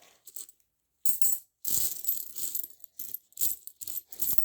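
A 50-grosz coin from 2023 drops into a collection, giving a few bright metallic clinks and rattling settles in separate bursts with quiet gaps between them.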